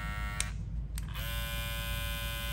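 A Babyliss Snap FX hair clipper runs with a steady, close, loud electric buzz and hum, holding a constant tone throughout with a brief shift partway.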